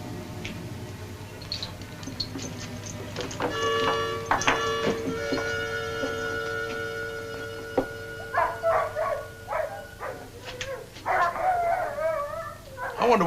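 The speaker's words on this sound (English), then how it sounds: "I wonder what's bothering those dogs." Sled dogs howling in long sustained wails that overlap, then breaking into yips and barks, a radio drama sound effect heard fairly close with no speech.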